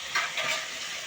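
Balls of vada batter, made with salt and finely chopped onion, frying in hot oil for a village-style kola urundai and banana-flower vada, giving a steady close bubbling sizzle that swells briefly in short bursts.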